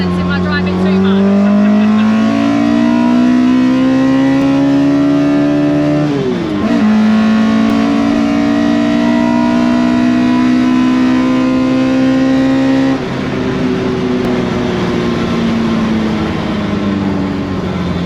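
A Ford Escort Mk2 with a carburetted YB Cosworth engine drones loudly from inside the car, its pitch climbing steadily through each gear before dropping sharply at two gear changes.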